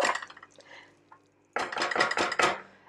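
A spoon scraping and knocking against a metal pot while stirring red lentil dahl, a short clatter, a pause, then a burst of several quick metallic clinks in a row, close and clear.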